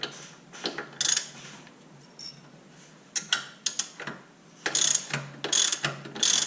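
A ratchet clicks in short bursts while loosening the bolts on a car shock absorber, each burst of rapid pawl clicks close and fairly loud, separated by brief pauses.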